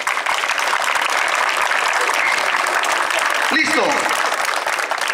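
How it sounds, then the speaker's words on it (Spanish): A crowd applauds steadily and loudly throughout, with a short spoken exclamation cutting in near the end. "Un aplauso, por favor"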